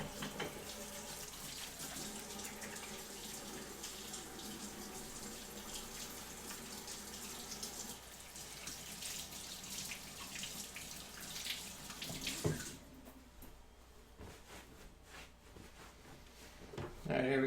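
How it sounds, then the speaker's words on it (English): Water from a kitchen tap runs steadily into a sink during hand washing while cooking chili, a continuous broadband rush that shifts and quietens near the end, with faint background speech. "should probably wash my hands."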